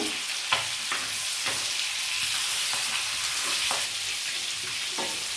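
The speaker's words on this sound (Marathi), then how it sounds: "आता सर्व चिवणी मी अशीच पलटून घेते" Roe-filled chivni fish frying in hot oil over low heat in Agri-Koli style, a steady close sizzle broken by repeated scrapes and clacks as the pieces are turned one by one.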